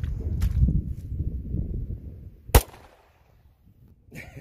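One loud, sharp .45 gunshot from a 16-inch barrel cracks out close by, following low shuffling and handling noise, then fades into quiet.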